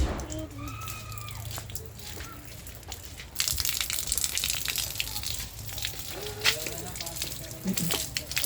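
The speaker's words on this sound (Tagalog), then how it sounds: "O, shower ka na dyan." Shower water running after an evening swim, a broad steady rush that swells louder partway through, with several people talking over it.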